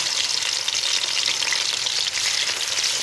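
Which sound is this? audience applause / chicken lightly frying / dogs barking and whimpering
chicken lightly frying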